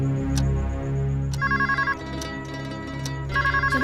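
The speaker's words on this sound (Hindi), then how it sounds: "चलो अब तो फोन आया।" A phone ringtone plays, a repeating electronic melody with bright tonal beeps in short bursts, fairly loud and close, with no talking.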